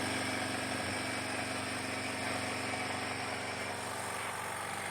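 A Nitrogen FS-4000 nitrogen tire inflator runs steadily while filling with air, a continuous close motor drone and hiss with no change in level and no voices over it.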